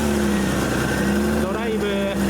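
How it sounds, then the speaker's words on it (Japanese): A 20-series Toyota Soarer, just back from a propeller-shaft repair, runs with a steady low engine drone and hum, with voices nearby. "エンジンかけて。"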